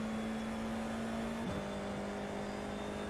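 IndyCar engine in a racing video game at Spa, holding a steady high drone that dips briefly as it shifts gear about halfway through, then carries on at a lower pitch, continuous and fairly loud without talk.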